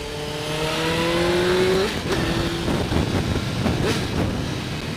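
Suzuki GSX-R 750 K1 sportbike ridden hard, engine howl climbing steeply then dropping at a gear change, followed by rough, gritty rumble and wind rush, loud and close.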